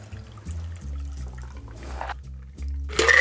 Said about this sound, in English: I'm just going to use my Hawthorne strainer to keep out the old ice and we'll pour it in like so.